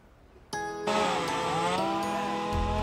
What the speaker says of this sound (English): The sound of chainsaws fill this Woodridge neighborhood.